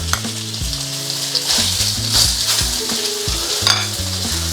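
Beef dropped into hot vegetable oil in a wok sears with a loud, steady sizzle and crackle, with short bursts of louder spitting as the pan is swirled. Music plays underneath.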